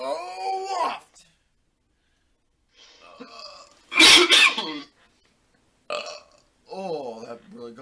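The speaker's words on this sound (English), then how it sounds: "Oh, that really got up a belch from me" A man lets out several loud belches, separated by silences, with a big, rough burp near the middle and shorter croaky ones around it, close to the microphone.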